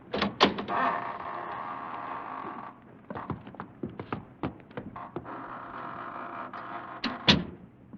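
A heavy door opens with creaks and knocks as a sound effect in a radio-style drama, a series of wooden clunks and scrapes at moderate volume with no talking.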